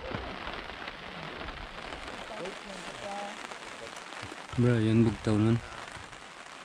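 Steady rain patters on a surface throughout on foggy Mount Kanlaon, Negros Island, while people talk nearby, their voices rising briefly toward the end.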